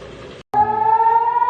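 A loud wailing siren holds a steady high tone after a brief cutout, with strong harmonics, sounding close by.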